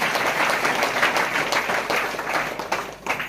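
Church congregation at a prayer centre clapping loudly together in thanks, a dense, sustained roar of many hands with a few sharper bursts toward the end and no speech over it.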